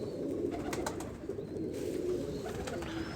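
Pigeons coo in a dense, continuous chorus of low rolling calls, close and steady throughout, with a few faint higher chirps and no speech.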